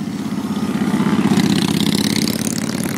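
Motorcycles of rescue riders at the Tomahawk Speedway Fall Ride for the Vets idle and rev nearby in a steady, loud rumble with a brief swell of throttle midway, no talking over it.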